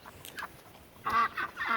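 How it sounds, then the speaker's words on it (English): Ducks on a farm, disturbed while digging for worms, give a few loud honking quacks in quick succession, close by, after some fainter calls at the start. "Oh, the duckies are digging for worms, and I scared them away."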